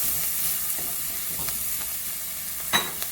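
Chopped garlic and ginger sauté in a pan for Jamaican-style pumpkin, a steady close sizzle with faint stirring scrapes and one sharper clink of a utensil near the end.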